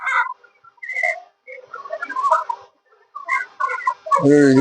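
Chickens on a village poultry farm cluck and call in short bursts, ending in one loud, drawn-out, harmonic cry close by, with quiet gaps between the calls.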